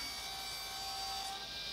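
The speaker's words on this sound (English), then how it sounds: "doing the moulding on the saw with the upright gig I made" Saw cutting wooden moulding held upright in a clamped jig, for a walnut and maple box: a steady, continuous bright rasping whine at close range, holding at a constant level throughout with no talk.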